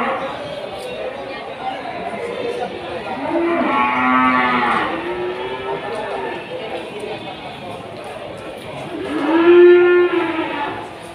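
Cattle, including young feeder stock, low and moo at the Kliwon livestock market in Kudus. Two drawn-out calls rise over a steady murmur of the crowd, and people talk nearby throughout.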